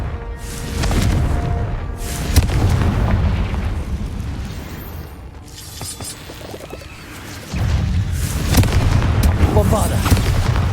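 Confringo explosive spell in the Hogwarts Legacy video game, fired inside a cave: loud booming blasts and bursts with rumbling tails, a sharp impact near the middle and a heavy surge late on, amid dense game effects and voices.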